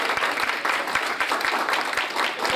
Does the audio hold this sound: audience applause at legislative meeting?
yes